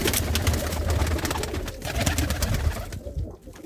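Pigeons cooing inside a racing pigeon loft in Punjab, low throaty coos repeating under busy clattering and rustling noise, close and fairly loud.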